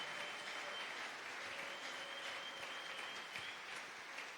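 A church congregation applauds together, steady dense clapping filling the whole stretch at moderate loudness with no voices rising above it.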